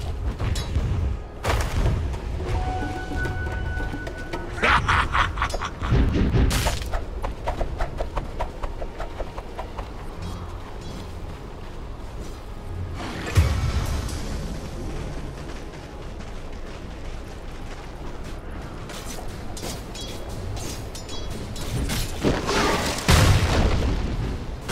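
The middle tower comes under attack in the video game Dota 2, with a loud, continuous barrage of booming impacts, crashes and clattering combat effects, swelling in several heavy bursts.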